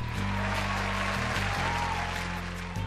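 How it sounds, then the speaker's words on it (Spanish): A secondary school class session fills with a soft, even patter of clapping for a student, carried over a steady low electronic hum that runs underneath throughout. "Aplausos para ti también."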